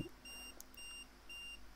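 A pen-style digital battery tester gives one short, faint electronic beep from close by, with steady high tones around it and no one speaking.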